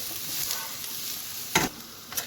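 Thyme and seafood sauce sizzling in a frying pan, a steady close hiss with a couple of brief louder stirring scrapes, no talk.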